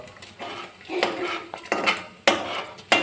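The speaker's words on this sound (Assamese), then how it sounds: "তাৰপিছত চেকনি এখনত চেকি পেলাব তেলখিনি।" Homemade coconut oil is strained through a sieve, with a series of close metallic clinks and scrapes of a utensil against a pot and strainer, irregular and sharp, separated by short pauses.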